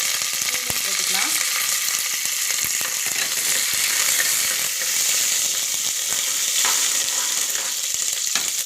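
Dried red chillies and curry leaves fry with chana dal and urad dal in hot oil for raw rice upma, giving a loud, steady, close sizzle with occasional spoon stirring throughout.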